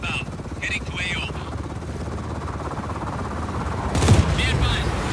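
A helicopter in the Just Cause 4 video game thrums with a dense, continuous rotor rumble, joined by bursts of gunfire and a heavy boom, while voices talk over the action.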